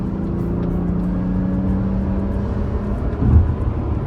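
A 2025 Mazda CX-60 Takumi accelerates at full throttle for an overtake, its engine droning steadily from inside the cabin over constant road noise, with a brief surge near the end.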